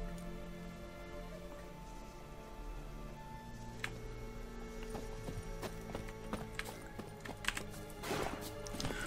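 Summoned horse in The Witcher 3 arriving with steady clip-clopping hooves and a possible whinny near the end, heard over a bed of game music and ambience.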